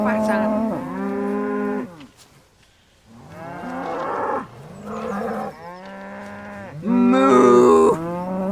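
Cattle low repeatedly in long, deep moos, loud and close, with several animals overlapping and a short quiet gap partway through; a voice briefly speaks.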